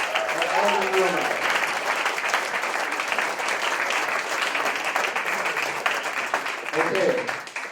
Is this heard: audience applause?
yes